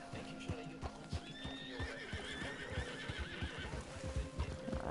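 Horse hooves clip-clop in a steady, busy patter while a horse neighs and whinnies in a video game, the sounds close and fairly loud over faint ambient background.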